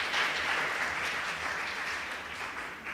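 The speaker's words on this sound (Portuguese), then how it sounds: "Palmas para o Benedito." An audience at a literature panel applauds steadily for a few seconds, a dense, even wash of clapping heard from a moderate distance with no talk over it.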